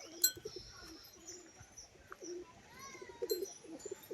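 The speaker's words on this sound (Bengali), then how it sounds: "তো এই হচ্ছে নর পায়রাটা" Male fancy flying pigeon cooing at close range, soft repeated low coos with a few chirps and brief wing rustles from other birds nearby, no talking.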